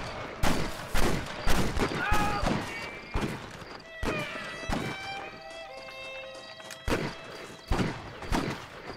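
Gunfire crackles in a Red Dead Redemption multiplayer match in the town of Armadillo, with scattered sharp shots and short volleys at irregular intervals, some near and loud, others softer, over game music and effects.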